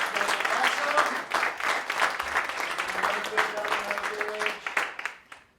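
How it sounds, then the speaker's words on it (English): Sustained applause from an audience at an oratorical contest, dense clapping that fills the room and fades toward the end, with faint voices mixed in. "huge round of applause for all of our contestants"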